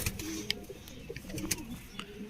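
Pigeons at a pigeon keeper's loft coo in soft, low repeated bursts, with scattered brief higher chirps and rustling over a steady background.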